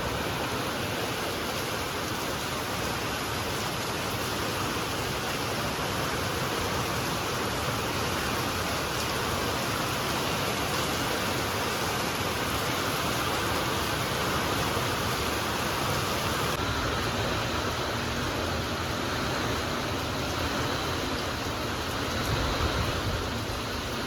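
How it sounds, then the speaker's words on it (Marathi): Heavy rain pours down steadily, a loud, dense and continuous hiss with no pauses or voices for the whole stretch. "असला मस्त पाऊस पडतोय ना आवाज पण येत असेल"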